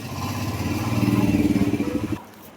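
A motorcycle engine idles close by with a rapid throbbing putter, then cuts off abruptly, leaving near silence.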